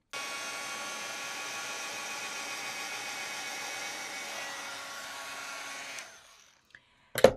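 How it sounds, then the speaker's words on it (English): A heat tool blows hot air to melt embossing powder on vellum, a steady whirring hum lasting about six seconds before it cuts off, followed by a brief clatter. "I'll grab my heat tool so we can melt that powder"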